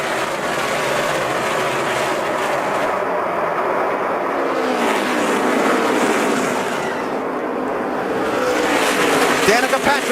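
NASCAR race cars roar around the track in a dense, continuous engine drone, with cars sweeping past close by as commentary runs over the noise.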